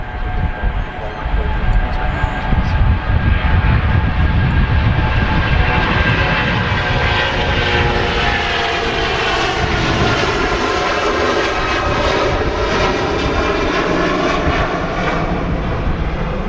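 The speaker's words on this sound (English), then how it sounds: "A330 rolling? Oh yes. This is a Jet2 A330 at least from Air Tanker. It should sound pretty good," A Jet2 Airbus A330, ex-Air Tanker, on its takeoff roll at Manchester Airport, a loud sustained roar with a deep rumble and a rising turbine whine that stays strong and steady throughout.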